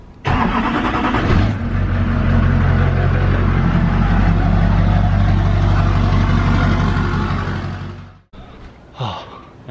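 Square body truck engine starting and running loudly nearby, then cutting off abruptly, followed by brief faint knocks.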